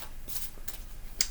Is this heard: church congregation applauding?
no